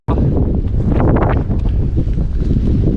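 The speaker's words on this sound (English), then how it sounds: "you probably can't even hear because of the wind" Strong wind gusting across a UK mountain peak as clouds roll in, a loud, continuous roar buffeting the microphone with no pauses.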